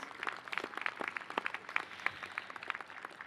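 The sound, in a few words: audience applause at a convocation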